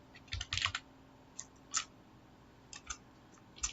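Python code being typed on a computer keyboard: a few short, quiet bursts of keystroke clicks separated by pauses, with no talking.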